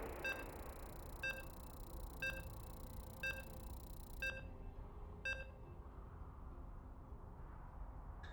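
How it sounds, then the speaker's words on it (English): A series of six short, evenly spaced electronic beeps about one second apart, clear and moderately loud over a steady background hum, as a StarCraft match loads. "You can hear the beeps. We're loading on into the final game of this series."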